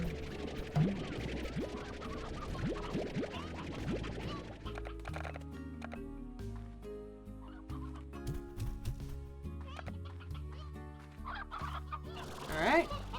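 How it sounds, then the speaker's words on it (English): An elder hen in the video game Slime Rancher clucks among other game sounds and music, with scratchy, tapping noises throughout and a burst of sharper activity near the end. "we got an elder hen!"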